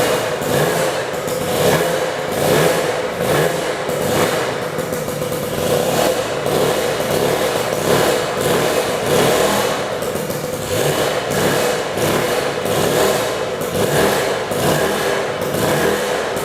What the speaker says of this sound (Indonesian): Serenyah apa suara Sanex GJ50 menggunakan knalpot RNBW Exhaust.